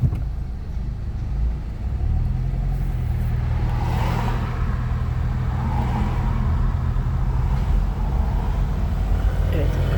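Automatic-transmission car pulling away on a driving-lesson course, a steady low engine rumble and road noise running throughout, with a slight rise as it gets moving; no talk in the clip.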